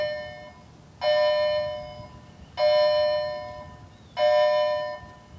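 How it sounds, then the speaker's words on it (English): A high school class change bell rings three times in a steady pattern, each ring a loud electronic ding-dong tone lasting about a second, heard alone over a low background hum. "bells do ring and students do change classes"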